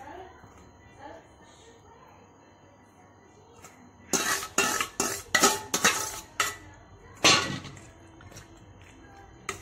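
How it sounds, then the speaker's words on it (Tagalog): Chicken being mixed with curd and biryani masala in a bowl, a quiet start followed by a burst of loud clattering, clinking knocks against the dish in an uneven rhythm. "We're going to mix this to the chicken."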